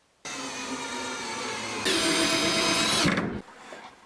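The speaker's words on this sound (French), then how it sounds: "Mets tes deux mains sur la visseuse, là, voilà." A cordless drill driver whines as it drives a screw into a recycled pallet board, running steadily, then rising in pitch partway through before cutting off abruptly near the end.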